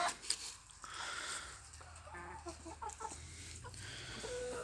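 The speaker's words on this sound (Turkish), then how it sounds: "Bugün komşumuzun tavuk çiftliğindeyiz." Chickens cluck and murmur close by on a chicken farm, with scattered bursts of clucking over a steady low background.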